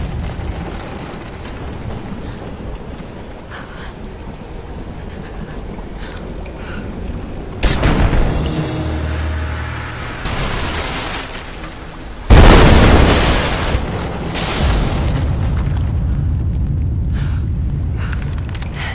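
Greek fire vessel blasts in Rise of the Tomb Raider, two loud booming explosions spaced apart, each followed by rumbling crumbling debris over a low constant background.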